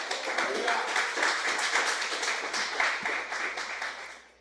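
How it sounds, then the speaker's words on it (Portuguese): A church congregation claps and applauds during a worship service, a steady rhythmic clapping that carries on for several seconds before fading slightly. "Você pode aplaudi-lo por isso?"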